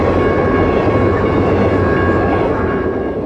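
A train rolls through a railroad crossing on Ferry Street with a steady, loud rumble and rail noise that holds for the whole stretch, though the picture cannot confirm the crossing itself.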